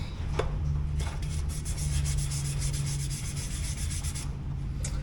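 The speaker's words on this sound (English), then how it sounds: "It's just me sanding shit." Hand sanding, a steady rasping scrub in quick repeated strokes, close and fairly loud, with no talking.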